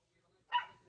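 A single short, faint dog bark or yip sounds once, close by, in an otherwise quiet room.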